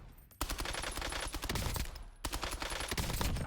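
Rapid bursts of gunfire from a first-person shooter, loud crackling volleys in two long strings separated by a brief lull, close and dense like automatic weapon fire.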